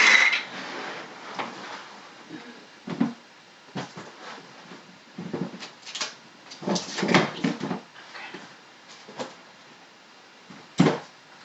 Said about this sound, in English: knocking over candle stuff.